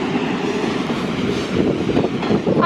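A Class 66 diesel freight locomotive hauling a full rake of DB wagons pulls away at Crewe station, bound for Ardwick Sidings, with a steady engine drone and rolling wheel noise that grows a little louder toward the end.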